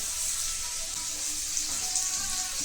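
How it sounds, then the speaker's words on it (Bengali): Potatoes frying in a pan of oil for ghugni give a steady, even sizzle and hiss from start to finish, with no voices over it. "আলু ভাজা হচ্ছে"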